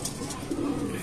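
Pigeons coo softly nearby in a short burst, a low throaty call over light background noise at a bird loft.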